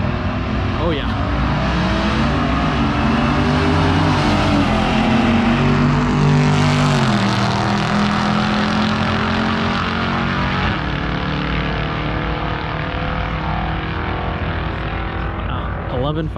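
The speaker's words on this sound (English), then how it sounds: "But we got a Chevelle versus it looks like an SRT, a Jeep Grand Cherokee SRT." Drag race cars, a Chevelle and a Jeep Grand Cherokee SRT, accelerate hard down a quarter-mile strip, a loud sustained engine roar with shifting pitch that swells and fades, with crowd noise around it.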